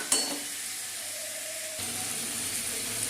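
Cauliflower, potato and pea curry sizzles in a pan after salt, peas and spices go in, a steady close frying hiss with a brief stir or clatter near the start and no talk.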